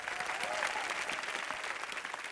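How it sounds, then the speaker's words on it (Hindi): A TV comedy show's studio audience claps steadily in a dense burst of applause, with faint crowd noise mixed in. "जोरदार तालियां बजाओ"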